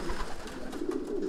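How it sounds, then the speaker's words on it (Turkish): A pigeon gives a soft, low, continuous coo that sits close and steady through the short moment. "Şu güvercin mesela İstanbul'dan hediye olan bir güvercinimiz bize."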